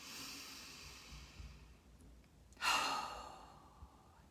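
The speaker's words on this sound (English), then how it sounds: "It's okay, just breathe." Deep breathing from a person during a guided masterclass, with a soft drawn-out exhale swelling loudly near the middle, close to the mic, over a quiet hiss and no talking.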